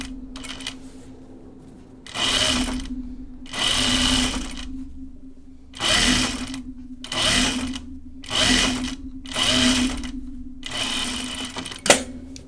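A home sewing machine stitches a pajama top in several short, bursty runs separated by brief pauses, with a steady hum throughout and a sharp click near the end.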